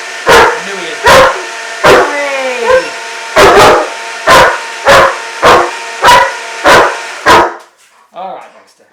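A dog barks repeatedly and loudly close by, about ten evenly spaced barks over a blender running for a bulking smoothie, with the machine cutting out near the end.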